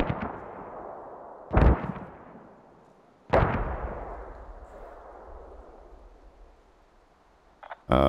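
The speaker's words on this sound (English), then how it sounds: "Mortars landed past Apperly." In the video game Squad, mortar shells land with two heavy booming impacts a couple of seconds apart, each trailing off in a long rumbling echo, followed by a sharper closing crack.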